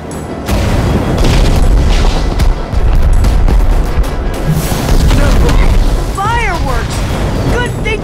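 Fireworks bursting in Minecraft: Story Mode, a loud run of booming blasts and pops with crackling tails, set against a dense game score and effects, followed near the end by rising whistling streaks.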